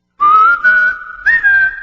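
A woman whistles a bright, clear tune close to the microphone: two sustained, gently wavering phrases separated by a brief pause, with no talking.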